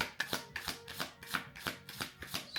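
Tarot cards being shuffled, a quiet run of rhythmic riffling bursts repeating about every third of a second, close up and soft, with no voices.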